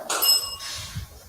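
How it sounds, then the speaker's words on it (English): A small hand bell rings once, bright and close, with a short shimmering tone that fades quickly into room noise. "Who's ringing the bell?"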